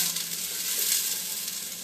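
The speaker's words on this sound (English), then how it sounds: "I'm quickly just chopping them, and give my onions a stir." Chopped onions sizzle steadily in a hot pan with garlic, a close, even crackling hiss with faint scraping of a stirring utensil and no talking.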